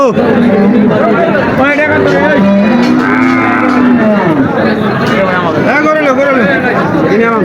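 Loud, drawn-out cattle moos rise over a dense crowd of chattering voices, several animals calling close by at the Aricha livestock market in Bangladesh.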